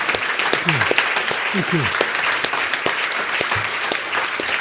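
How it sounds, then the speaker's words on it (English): Sustained audience applause at a head and neck cancer conference, dense and steady throughout, with a voice speaking over the clapping. "I do think he needs a round of applause"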